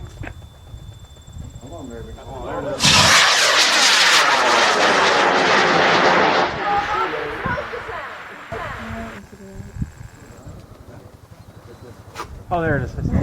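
An amateur rocket launch bursts into a loud, roaring rush for about four seconds, then fades as the rocket climbs away, with people's voices heard around it.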